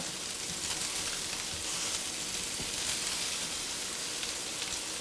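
Chopped bacon and onions sizzle steadily in a skillet, a dense, even crackle of frying fat that runs without pause, close and moderately loud, with no voices over it.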